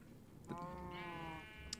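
Sheep in a block-building mining video game give a single drawn-out wavering bleat, faint and close, with a short click just after and no voices.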